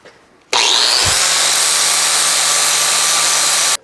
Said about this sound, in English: Next, I'm going to use this flap disc and clean these up really good.